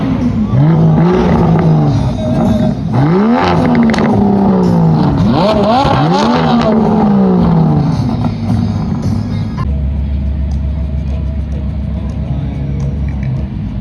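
Sports cars at the Meet for Speed event at the Grobnik circuit in Croatia roar past in loud succession, engines revving and pitches sweeping as each passes close by, then settle into a steady low rumble.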